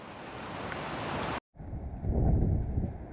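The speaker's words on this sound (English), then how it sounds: "the wind is pretty unpleasant today, 70 miles per hour gusting to God knows how much" Strong wind gusting to 70 miles per hour roars and buffets the microphone, with a brief dropout and then a louder gust surging up.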